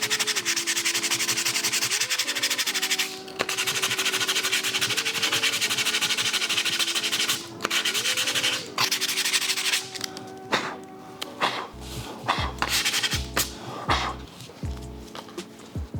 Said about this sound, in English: And now give it a good sand.